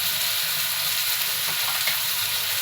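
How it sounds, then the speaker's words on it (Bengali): Cabbage fries with spices in a pan with prawns, giving a steady hissing sizzle punctuated by faint stirring scrapes, close and continuous. "দেখুন বন্ধুরা নাড়াচাড়া করছি"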